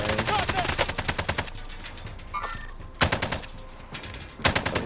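Rapid bursts of automatic gunfire in Warzone, a fast repeating rattle that stops and restarts in several loud volleys, with faint talk in between.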